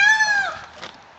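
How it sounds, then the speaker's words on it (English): A peacock in the background on a rabbit farm gives a single loud, shrill, wailing call that rises and then trails off, heard close and alone. "yes, that's a peacock in the background."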